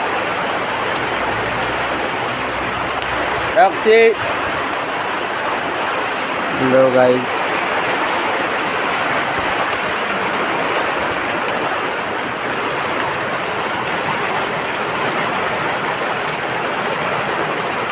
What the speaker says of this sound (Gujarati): વરસાદ ગાઈસ